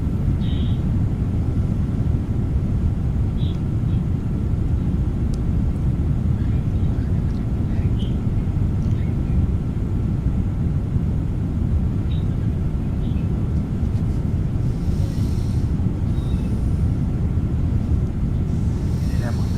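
A Citation jet cruises at flight level 410 in a flight simulator game, a constant loud low engine drone with no breaks.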